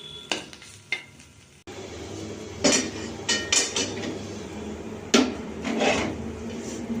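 Carrots and cauliflower being stirred in a frying pan, with scraping and rasping strokes in bursts over a steady low sizzle, close and moderately loud, no talking.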